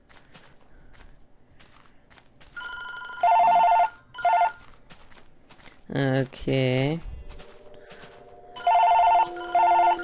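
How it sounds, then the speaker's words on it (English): A telephone rings with a bright electronic tone in repeated short bursts, sounding several times with pauses between, while someone speaks briefly in the middle. "I gotta take this phone call."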